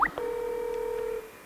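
Telephone dialing tones in a World War II North Africa tank video game: a brief burst of keypad beeps, then one long steady dial-type tone held for about a second, clear and alone.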